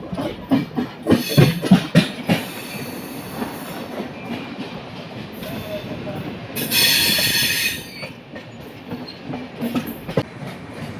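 Howrah–Chennai Mail express (12839) rolls along the rails with rhythmic wheel clatter and rumble, interrupted midway by a loud, bright metallic wheel squeal before the clatter resumes.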